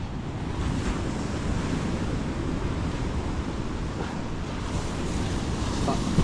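Sea surf at Bukana rolls in steadily and close, a dense continuous wash of breaking waves with wind buffeting the microphone throughout and no talk.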